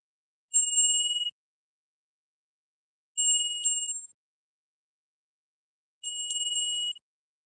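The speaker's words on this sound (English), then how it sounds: "we're going to ring the bell 3 times" A bright bell rings three times, evenly spaced a few seconds apart, each ring clear and sustained with silence between.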